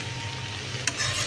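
A vegetable bhaji, eggplant among it, sizzles in a pan and is stirred, giving a steady crackle with one sharp scrape near the end.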